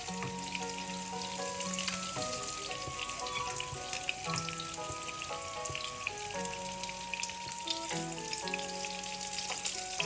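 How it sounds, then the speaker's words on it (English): Spicy Anglo-Indian fish frying in a pan on medium heat gives a continuous crackling sizzle, steady and close, beneath sustained musical tones. "So I'm frying on medium heat, and we'll fry one side first and then turn it over."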